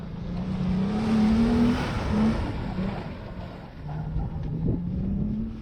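A budget rally car on snow tires drives through a turn, its engine droning loudly at a steady, rising and falling pitch with a rough rumble, heard from a short distance without talk.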